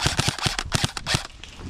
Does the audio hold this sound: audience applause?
no